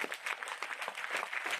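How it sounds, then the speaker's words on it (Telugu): A crowd at a Telugu motivational talk bursts into brisk, dense applause, with many overlapping claps at a moderate distance. "గట్టిగా చప్పట్లు కొట్టండి"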